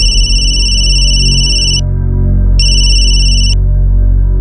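A phone ringing with a bright electronic tone in two long rings separated by a pause, loud and close over a low droning music bed.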